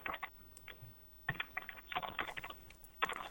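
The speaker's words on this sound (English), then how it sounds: "Are you hacking away on a typewriter?" Quick bursts of keyboard typing, clicky keystrokes in uneven clusters separated by short pauses, close and fairly quiet.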